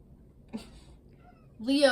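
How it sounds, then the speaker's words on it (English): A pet cat meows close by, one short call followed by a louder drawn-out meow at the end, over a quiet room with faint background noise. "That was Jupiter, the kitty, meowing at me."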